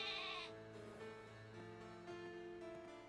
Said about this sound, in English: Ah, cute little sheep.